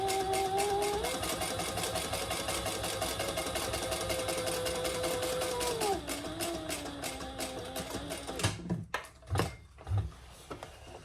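A sewing machine runs steadily at speed for several seconds, a dense mechanical whir, then slows and stops briefly before short stitching bursts while back stitching fabric.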